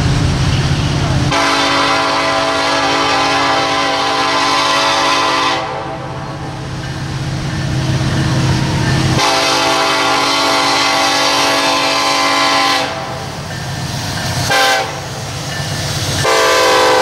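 Norfolk Southern freight train led by an SD70ACE locomotive passes at Cleveland, Tennessee, sounding loud, long horn blasts in several sustained chords over heavy rumbling engine and rail noise close by.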